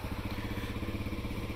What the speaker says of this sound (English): Bike always fires up quick, very quiet in stock form.